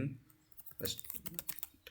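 Quiet clicking and typing on a computer keyboard, a scatter of soft key taps and clicks following a moment of near silence, faint and close.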